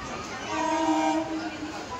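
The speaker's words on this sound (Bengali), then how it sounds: "ট্রেন চলে এসেছে," Train pulling into a crowded station, a steady rumbling roar with a sustained horn-like tone swelling through the middle and easing off.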